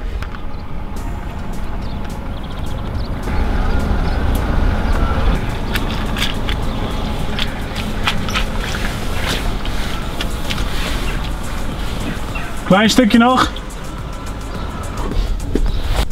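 A car reverses a boat on a tilt trailer toward the edge, a steady low engine rumble under broadband outdoor noise that runs throughout, with a brief louder knock and rattle near the end and a short spoken remark.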